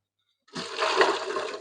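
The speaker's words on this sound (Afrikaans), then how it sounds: "Gooi ons gou water in tot" Water gushes steadily into a steam canner pot holding bottled soup jars, starting abruptly after a moment of silence and continuing as a close, loud rushing pour.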